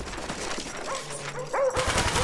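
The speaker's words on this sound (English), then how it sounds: "Dogs are killing them." Attack dogs bark in a video game shooter, several sharp yelps and barks running through a busy mix of gunfire and effects, with a louder burst of noise at the end.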